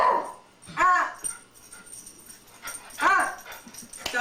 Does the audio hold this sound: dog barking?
yes